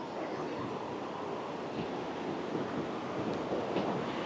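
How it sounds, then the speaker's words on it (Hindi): A river in Turtuk flowing beneath a bridge, a continuous broad rushing wash of water heard from above, steady and fairly loud with some wind mixed in. "नीचे से नदी बह रही है"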